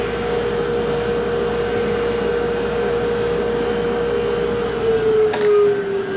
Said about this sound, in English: And vacuum up the mess.